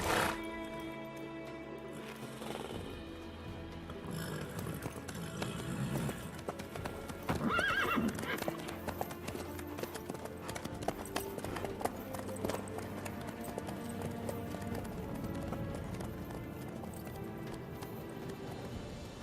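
A horse in Witcher 3 gallops with steady rhythmic hoofbeats throughout, with a whinny partway through and brief voices in between.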